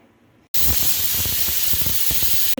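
A pressure cooker making ghee rice vents steam through its whistle, a loud, steady rushing hiss that starts abruptly after a half-second of quiet and runs on evenly, with no voices.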